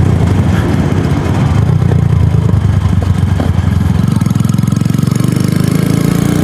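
A 250cc motorcycle (DF250RTS / Venom X22R) on a ride with new sprockets, engine loud and close, droning steadily then rising in pitch as it revs hard in second gear, with a rapid pulsing exhaust beat.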